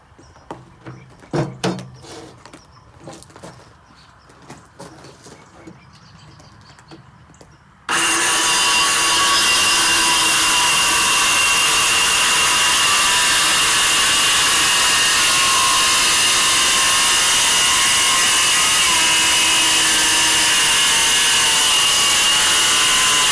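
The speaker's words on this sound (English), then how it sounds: "So I'm going to very carefully use my saw. I'm going to cut these strips." A power saw cuts wood strips for a 4-H bird feeder, starting after quieter handling sounds with a sudden loud, steady whine and grinding that carries on continuously up close for over fifteen seconds.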